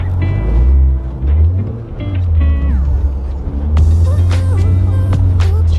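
A Volkswagen Golf R revs hard while drifting in a snowy parking lot, its engine note rising and falling loudly with tire noise and shifting pitch, close to the microphone.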